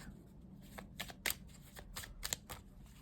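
Quiet, close riffling of a tarot card deck being shuffled, with several short bursts of flapping cards.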